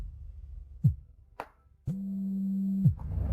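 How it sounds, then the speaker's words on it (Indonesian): A phone rings in an office during a meeting, starting with a few short electronic chirps and then a sustained steady tone of about a second, loud and close. "Maaf, aku harus menjawab telepon."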